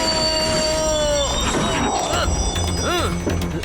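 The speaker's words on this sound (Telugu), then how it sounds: "ఈ ట్రైన్ అసలు ఆగదు." A cartoon train races along with squealing wheels and whistle-like sliding tones, sounding mechanical and busy, while animated voices talk and shout over it.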